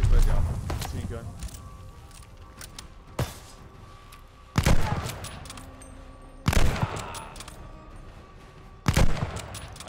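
Gunfire in Call of Duty: Vanguard, a few sharp, loud shots spaced several seconds apart, each with a short echoing tail, over game ambience while a player talks.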